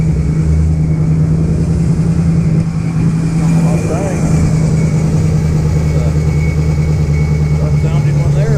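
An MG Roadster–style kit car on a VW chassis with a rear-mounted Volkswagen engine runs with a rough, uneven idle at a car show at a McDonald's, the steady low drone continuing while people talk nearby.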